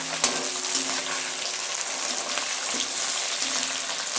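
Onions sauté in a pan with curry leaves, giving a continuous soft sizzle and faint bubbling hiss, with a few light clinks, steady and close.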